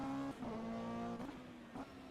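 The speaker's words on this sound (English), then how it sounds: "But if I don't, I'm gonna hit the rev limiter, even if it's just for a moment." A GT3 race car engine in rFactor 2 revs high near its limiter with a steady harmonic whine. It drops briefly as gears shift at about 0.3, 1.25 and 1.8 seconds, all close and loud, with no talk.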